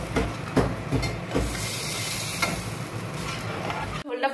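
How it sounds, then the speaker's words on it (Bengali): Thin fish curry broth boils in a pan on the stove, a continuous close hissing bubble with small pops and a few faint clinks, cutting off abruptly at the end. "ঝোলটা ফুটে গেছে"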